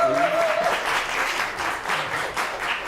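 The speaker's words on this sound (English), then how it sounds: "Can we give her a round of applause," An audience gives a round of applause for Lauren, the event organizer, with steady, dense clapping from a crowd that holds for the full span and swells slightly toward the end.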